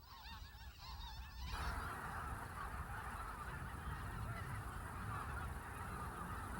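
A flock of blue geese, the dark colour phase of snow geese, honking continuously in a dense, layered chorus that grows fuller after the first second and holds steady throughout.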